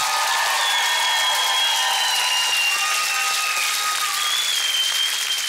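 Loud, sustained applause from a large television studio audience after a cooking duel, dense and continuous, with a few faint whistles or shouts rising above the clapping.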